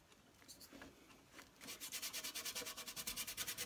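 Foil being burnished into die-cut paper with a tool, heard as a close, steady run of quick rhythmic rubbing strokes, each one a short scratchy swish, starting after a quieter stretch of scattered light scraping.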